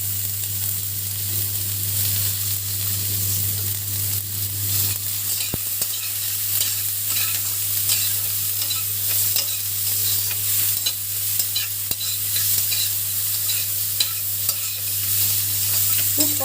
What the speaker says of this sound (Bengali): খুব কম তেলে রান্না হচ্ছে কিন্তু।